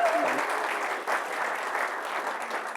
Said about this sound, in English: I just want you all to give her a great big round of applause